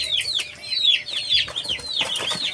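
Native chickens clucking and chirping in a farmyard, a busy cluster of sharp, rising calls from several birds overlapping close by, with no talk.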